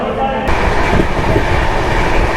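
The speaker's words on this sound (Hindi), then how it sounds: "ट्रेन निकल पड़ी" The Chennai Express passenger train pulls away, loud rumbling wheels and car rattle close by, with a voice speaking over the noise near the start.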